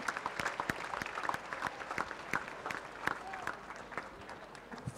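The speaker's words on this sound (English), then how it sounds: "let's give them a big round of applause" Applause from an audience at a school platinum jubilee celebration in Matunga, scattered sharp claps rising and falling over five seconds, fairly distant, with some voices underneath.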